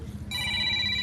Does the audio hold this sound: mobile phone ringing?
yes